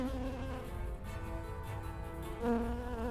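A cartoonish bee buzzes steadily in the Popup Dungeon video game, a continuous droning hum that holds through the whole stretch and swells slightly near the end, with no one talking over it.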